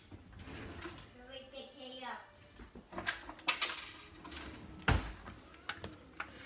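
A spoon stirs green pepper and onion softening in a pan for a cheesesteak, with scattered scrapes and clinks of utensil against metal, close by, alongside talking.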